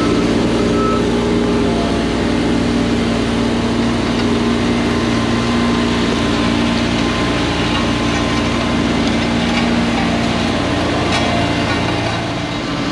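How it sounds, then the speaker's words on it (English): At a parking lot paving job, an asphalt truck backs up to a paver, its engine rumbling loud and close in a dense, continuous drone with reversing beeps. "Truck backs up, the paper actually pushes the truck, it rolls on those back tires."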